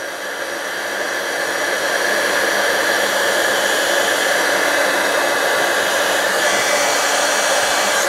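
A heat embossing tool blows hot air in a steady, close rushing hiss that starts slightly softer and then holds evenly, with no other sounds.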